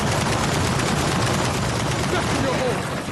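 Rapid sniper fire rattles through a video game firefight, a dense steady stream of shots close and loud for the whole stretch, with a voice talking faintly underneath.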